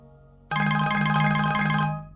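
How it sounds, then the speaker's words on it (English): Short electronic alert tone set on a CPAGrip offer page, a bright chiming ringtone-like melody that starts suddenly, lasts about a second and a half, then fades, heard alone. "Maybe I could just simply select an alert sound."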